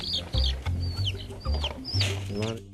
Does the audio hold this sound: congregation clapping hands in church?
no